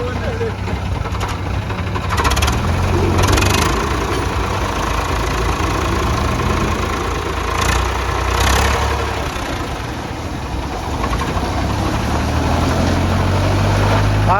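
A Farmtrac tractor engine idles with a low, steady rumble while people talk and shout nearby, some brief louder bursts rising over the drone.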